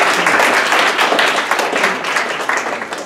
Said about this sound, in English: so we want to give Aran a big round of applause